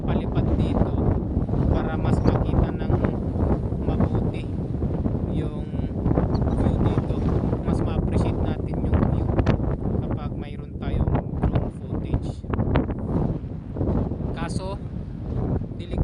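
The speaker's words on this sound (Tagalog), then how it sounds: "lakas ng hangin eh" Strong, continuous mountain wind at Mahon Falls in the Comeragh Mountains buffets the microphone with a dense, roaring rumble, steady throughout with gusty surges, while a voice talks underneath.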